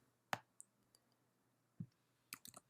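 A computer mouse clicks while selecting a quiz answer: one sharp click stands out, followed later by a soft thump and a quick cluster of two or three clicks, all faint against a quiet background.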